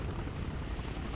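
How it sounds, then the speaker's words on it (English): A video game airplane drones steadily as a continuous engine roar, fairly faint, with no talk over it. "Why didn't the plane stop"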